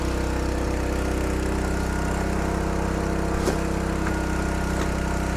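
A Skyvac Interceptor gutter-cleaning vacuum runs continuously with a loud, steady engine-like drone and hum, punctuated by a few brief clicks and rattles of debris being drawn through the tool.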